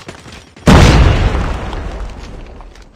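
A Semtex grenade blast in the mobile shooter Call of Duty Mobile, one sudden loud, close boom that rumbles on and fades slowly over a couple of seconds, with no voices.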